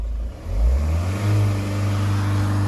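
A Ford car engine with an automatic gearbox revs hard and then holds steady against its rev limiter, producing a loud, close, droning hum with no talking.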